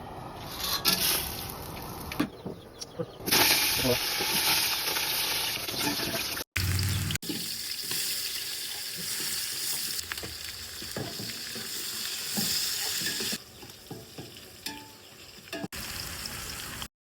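Cinnamon and cloves frying in hot oil for biryani, a continuous bright sizzle with occasional stirring scrapes, close and steady, with brief breaks in the sound.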